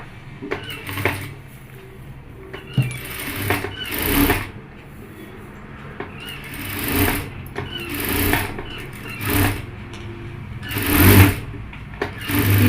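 A sewing machine stitches blouse fabric in loud, close bursts of rapid mechanical clatter, separated by brief pauses with low handling noise between runs.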